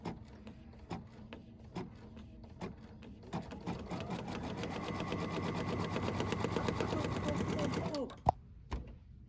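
An embroidery machine stitches out a design for a pet stocking: a few spaced clicks, then a steady loud rapid whirring hum with fast needle chatter for several seconds, stopping with a couple of sharp knocks. No speech.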